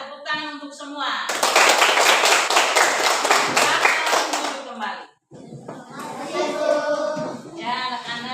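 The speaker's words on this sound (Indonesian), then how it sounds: "Ya, tepuk tangan untuk semua" Schoolchildren in a primary school classroom break into loud, dense applause lasting about four seconds, framed by a voice and children's chanting before and after.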